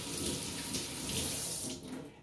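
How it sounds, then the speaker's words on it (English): Water runs steadily from a kitchen tap as hands are rinsed beneath it, a close, continuous splashing hiss that cuts off near the end. "let me just rinse my hands quickly"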